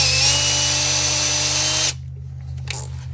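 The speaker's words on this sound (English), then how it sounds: "we're gonna drill that out" A power drill whirs loudly and steadily for about two seconds drilling out a bolt on a Big Cam Cummins engine, then cuts off, leaving faint rustling and clicks.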